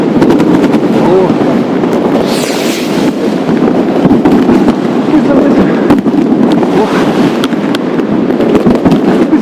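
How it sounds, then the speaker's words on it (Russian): Dense crackling bangs and pops of New Year's fireworks on a city square in Yakutsk at -40 °C rumble continuously, with voices talking underneath throughout. "в оградах там пускают салюты"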